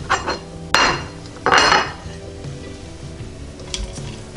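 Crispy air-fried bacon strips being lifted out of an Emeril Lagasse pressure air fryer, with a few sharp metallic clatters of tongs against the basket over a faint background hiss, no one speaking.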